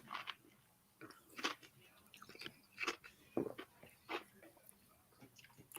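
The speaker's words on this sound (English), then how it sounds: "And now you chewing ice." Ice is chewed close to the microphone: irregular loud crunches and bites come in bursts, with quiet pauses between them, over a faint background.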